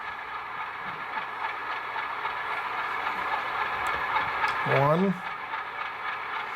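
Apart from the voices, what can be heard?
Rapido HO RS-11 model locomotive with ESU LokSound running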